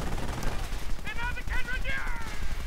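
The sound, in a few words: autocannon fire in a World War II video game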